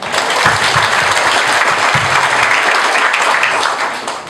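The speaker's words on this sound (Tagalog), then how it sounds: "Palakpak naman dyan." Sustained applause from a large audience at a Q&A session with top earners of a business group, a dense steady wash of many clapping hands that fades slightly near the end.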